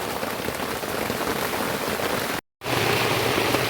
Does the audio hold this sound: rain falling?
yes